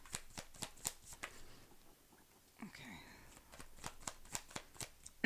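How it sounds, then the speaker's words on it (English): Tarot cards being shuffled and drawn by hand, a quiet run of soft crisp flicks and taps in an irregular patter, close and faint, with a brief rustle midway. "I want to get a couple more cards from here."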